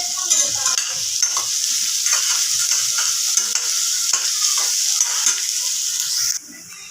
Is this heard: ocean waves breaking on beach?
no